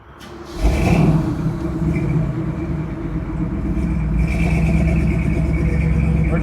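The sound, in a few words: 1967 Camaro convertible engine, driving out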